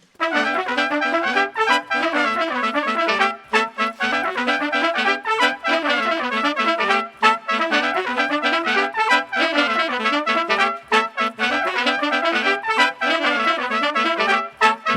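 Two interlocking horn-section lines from the hocket in a song play layered together, dense rapid brass stabs forming a busier continuous funk pattern with only a few brief pauses.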